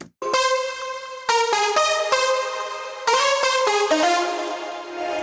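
Layered brass and string chords from Logic Pro X Studio Horns and Strings play together, four sustained block chords with sharp attacks, loud and full, no talking.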